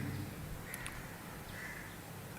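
A crow caws twice at a distance, short harsh calls spaced about a second apart over a steady low background hum in otherwise quiet surroundings.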